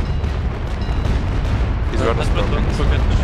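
Ship cannons boom in a naval port battle at Bluefields in the game Naval Action, with dense, rumbling broadside fire running steadily throughout, and voices talking over it.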